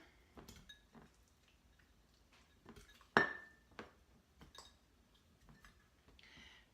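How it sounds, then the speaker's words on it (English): A navel orange set into a glass mason jar gives one sharp, ringing clink. Quieter kitchen taps and clatter come before and after, all close and fairly soft, with no talking. "You will need one navel orange, which I will place in my mason jar."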